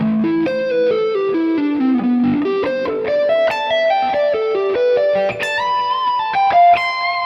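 Electric guitar runs through a fast lick, played alone with effects and light distortion, the notes climbing in quick succession over about seven seconds.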